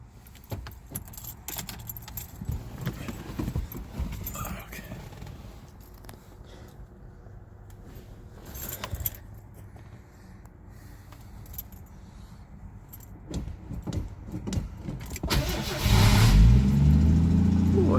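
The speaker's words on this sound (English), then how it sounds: "I'm gonna cold start this car and move it out of the way." Keys jangle and rattle quietly for a while, then a 1982 Ford Granada engine with a choke is cold-started near the end, catching with a sudden louder low rumble.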